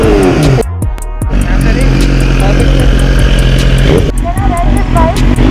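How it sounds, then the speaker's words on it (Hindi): A BMW S1000RR sport motorcycle engine revs hard and loud close by, with sharp gaps between bursts and a sustained high roar, while people talk over it. "पटाखे निकल रहे हैं बाइक के"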